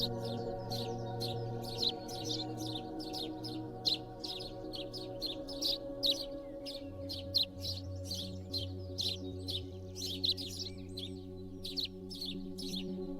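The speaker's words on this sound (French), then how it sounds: "Les oiseaux commencent à chanter." Birds sing on a mild, cool September morning, repeated short chirps and trills in quick bursts above a low steady hum, moderately near and clear with no talking.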